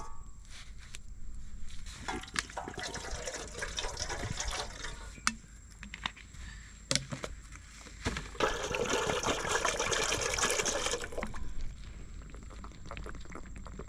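Water poured into a cooking pot set over an outdoor campfire on a tropical island, a steady splashing pour building through the middle and tailing off, with scattered knocks and rustles around it.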